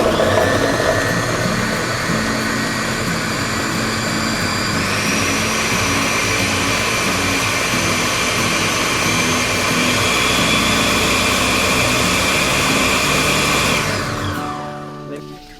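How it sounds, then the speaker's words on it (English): A food processor whirs steadily and loudly as it grinds potatoes and green pepper with a little water, a dense continuous motor roar that shifts pitch slightly partway through before winding down at the end. "Pour a little bit of water into a food processor to make them grind easily."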